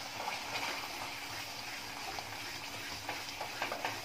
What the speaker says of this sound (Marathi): आणि जरा सतत ढवळत राहायचं आहे